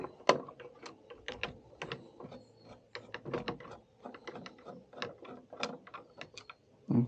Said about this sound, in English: you're going to remove this top screw right here.